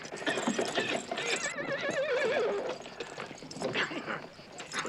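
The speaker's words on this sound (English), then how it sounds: "I found a horse." A horse neighs in a long wavering whinny mid-clip, close and loud, amid clopping hooves, scuffling and background commotion in an action movie scene.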